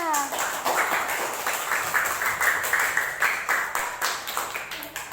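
Classroom of fifth-grade pupils clapping together after a group presentation, a dense steady patter of many small hands over roughly five seconds, with a voice and teacher's speech mixed in.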